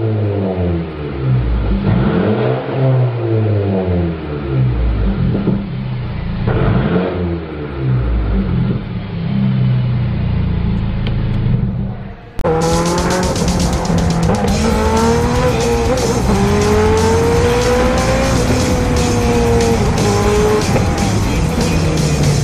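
A Mercedes-AMG car engine in a workshop roars loudly and continuously, revving hard with rising and falling pitch, then jumps to a brighter, harsher pitch partway through. No one talks.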